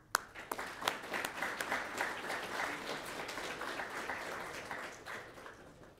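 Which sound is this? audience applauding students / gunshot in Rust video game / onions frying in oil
audience applauding students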